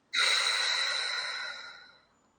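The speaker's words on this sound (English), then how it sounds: "Take a deep breath in and hold. I release all humiliation with you good for the money, and breathe out." A single long, deep exhale, close and breathy, rising suddenly and fading out over about two seconds with no talking.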